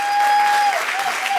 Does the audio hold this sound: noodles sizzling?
no